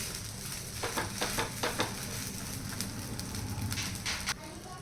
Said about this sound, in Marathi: दोन्ही साईडने लालसर होऊ होईस्तोवर भाजून घ्यायचे